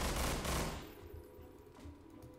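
Rapid gunfire rattles in the Estranged Act 1 warehouse showdown, a dense burst of loud shots at the start that thins into scattered fainter pops and cracks, with no voices.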